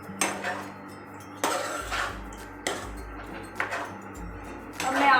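Utensil scraping and clanking against a cooking pot while chicken tandoori karahi with ginger is mixed, four separate bursts of stirring with short pauses between them, close and fairly quiet, with no talking.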